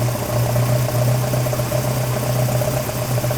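Volvo 240 engine fitted with Dellorto twin carburettors idling close by, a steady loud hum with a persistent low throb and slight vibration throughout, no speech.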